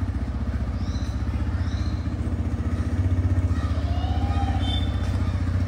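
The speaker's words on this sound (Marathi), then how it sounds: "इकडे आमचा राजाने बाईक काढले बाहेर." A motorcycle engine running nearby before a ride from Pune to Khed in Ratnagiri, a steady rhythmic idle putter that grows slightly louder partway through, with no talk over it.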